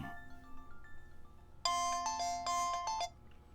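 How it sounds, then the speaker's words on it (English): A phone rings with an incoming call, a bright repeating electronic ringtone melody that starts abruptly and plays clearly for about a second and a half over a quiet room background. "Oh, shoot, I got a phone call."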